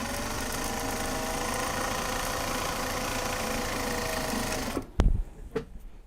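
A sewing machine stitching Japanese fabric bags runs in a steady, even whir for several seconds, then stops with a few clunks and handling knocks.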